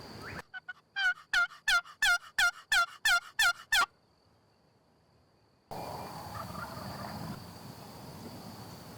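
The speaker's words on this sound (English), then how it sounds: "There's another gobble way to the left." A wild Rio Grande turkey in Oklahoma lets out a loud, rapid gobble of about ten quick rattling pulses, followed by quiet, then the outdoor ambience of insects and a distant background hum.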